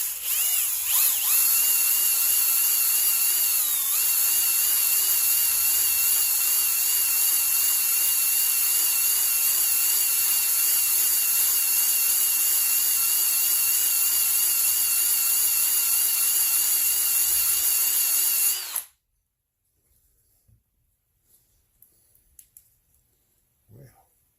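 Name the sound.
ball hone run by drill in Stihl 026 chainsaw cylinder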